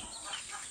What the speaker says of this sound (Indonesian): Ini ayam joper kita.